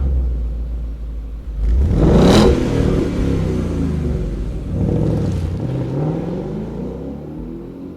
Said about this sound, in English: let's listen to what the stock startup and drive away sound is for a Mustang GT